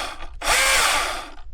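A Milwaukee M18 battery chainsaw spins up with a quick electric whine that holds for about a second before winding down, close and alone.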